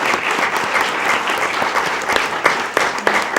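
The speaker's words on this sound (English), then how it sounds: "Let's give them a round of applause" A room full of people applauding at a school board meeting, a sustained, fairly loud round of clapping with a few sharper individual claps near the end.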